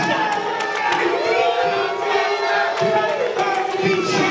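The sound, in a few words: wrestling crowd reacting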